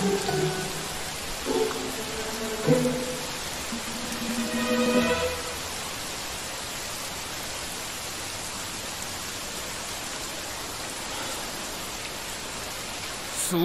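Unseasonal rain falls in a steady, even hiss that fills the scene, with a few faint voices murmuring beneath it in the first few seconds before the downpour continues alone.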